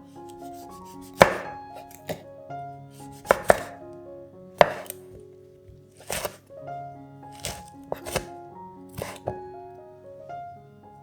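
A knife slices red chili diagonally, producing about ten crisp, separate cutting strokes at uneven intervals against a quiet, tonal background, with no talking.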